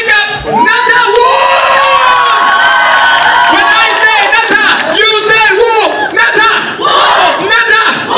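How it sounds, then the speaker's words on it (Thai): A wedding crowd cheers and shouts loudly and continuously, with excited voices whooping over scattered clapping. "ขอเสียงปรบมือ"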